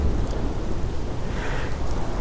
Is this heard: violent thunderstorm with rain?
yes